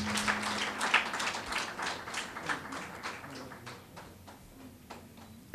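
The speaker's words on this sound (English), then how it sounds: "Continue the round of applause." Audience applause at a primary school GSAT awards ceremony, moderately distant clapping from a crowd with sharp individual claps standing out, continuing steadily and thinning slightly near the end.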